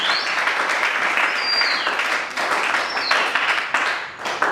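A church congregation applauds and cheers during a Wednesday worship service, a dense, steady wash of many hands clapping that carries on for several seconds, with a few whoops and voices rising over the crowd.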